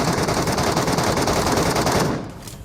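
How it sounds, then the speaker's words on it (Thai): Rapid, sustained automatic gunfire in PUBG on the Metro map rattles continuously, loud and dense, then cuts off near the end, leaving quieter background noise. "พอได้ยินเสียงปืนอยู่"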